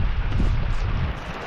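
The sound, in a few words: strong wind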